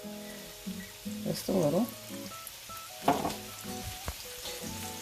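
Shrimp sauté in a pan with adobo seasoning, thyme and parsley, giving a soft, steady sizzle under a woman's speech, joined by a few clinks and stirring noises.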